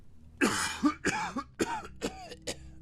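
A close fit of repeated coughing, about six harsh hacking coughs in quick succession with short gasps between them.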